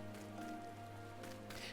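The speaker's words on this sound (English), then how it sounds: "Man, it's raining here, too." Rain falling in the video game Final Fantasy XIV, a soft, steady patter with a sustained musical tone underneath and no voices.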